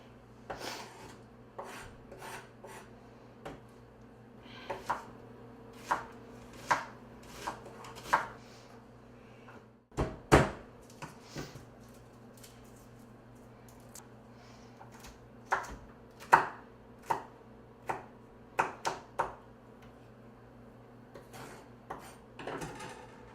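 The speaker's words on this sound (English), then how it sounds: "we're going to go ahead and cut up an onion and also some garlic" An onion and garlic are chopped with a knife on a cutting board, a series of sharp, distinct chops in uneven bursts with short pauses between, close and clear against a quiet room.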